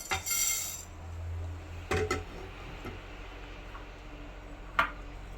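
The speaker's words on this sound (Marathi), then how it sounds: "धने मस्तपैकी भाजलेले आहेत काढून घेऊया एका भांड्यामध्ये" Roasted coriander seeds are tipped from the pan into a pot with a brief rattling pour and a few faint clicks of metal utensils, followed by quiet kitchen background.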